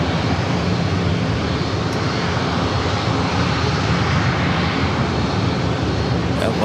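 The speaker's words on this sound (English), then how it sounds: "Next up is that American A321 flight coming from Dallas Fort Worth" American Airlines Airbus A321 jet arriving at San Diego airport from Dallas Fort Worth, a loud, steady engine roar filling the whole stretch without a break.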